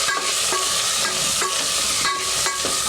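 A spoon scrapes and stirs through a sizzling pan of Indian bean (anapakaya) curry after turmeric is added, rhythmic strokes about every half second over continuous frying hiss, close and loud.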